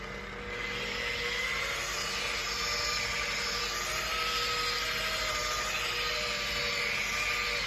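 A paint polisher set to 600 RPM works over car paint to remove orange peel, giving a steady, moderately loud whirring drone with a faint tonal hum that runs unbroken throughout.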